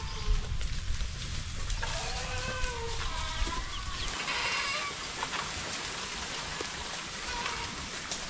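Pregnant goats bleating on a farm, several short calls in the middle section over steady rain-like hiss and low rumbling background noise.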